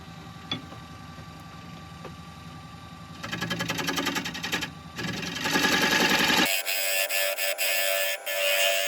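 A small Hope hollowing tool cuts into wood on a lathe, making a loud, dense rattling chatter that builds and then turns harsher and brighter near the end, over the steady whir of the machine.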